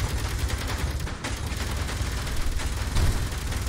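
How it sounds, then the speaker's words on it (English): Gunfire and explosions from an interior turret in the sci-fi video game Escape from Mars, a dense continuous barrage of rapid shots and booms at steady loudness with no speech. "I'm hearing a lot of explosions."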